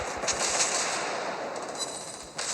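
The USS Brooklyn fires a 15-gun salvo in World of Warships Blitz, heard as a dense, continuous rumble of distant gunfire with a few sharper cracks standing out, fairly quiet and without talk.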